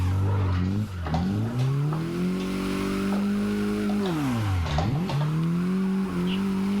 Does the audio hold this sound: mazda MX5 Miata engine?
yes